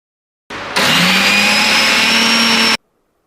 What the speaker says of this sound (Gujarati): આમાં મીઠું અને હિંગ નાખી આ ચટણીને આપણે અધકચરી પીસી લેવાની છે